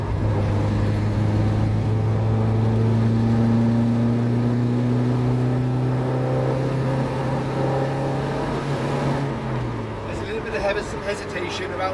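Restored Ford Escort Mk1 running on carburettors and driven on a road near Black Mountain, with a steady droning engine note that holds around 3,000 rpm, wavers and then drops away near the end, heard close inside the cabin.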